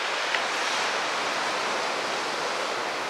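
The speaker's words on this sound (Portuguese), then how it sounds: "Hoje as ondas não estão muito grandes e a praia tá vazia." Small ocean waves wash onto the wide, empty sand of Itaguaçu beach in São Francisco do Sul, a steady hiss of surf with no voices.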